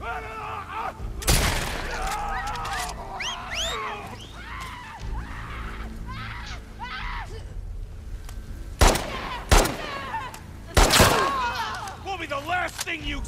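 Gunfire erupts during an attack in a video game, with sharp loud shots in short bursts, two close together near the end, over a busy layer of in-game effects and voices.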